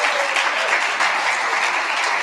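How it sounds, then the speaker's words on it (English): An awards-ceremony audience applauds the Bram Stoker Award winners, a steady, full round of clapping from many hands, sustained throughout without talk. "when I call your names, to stand up and then applaud them at the end"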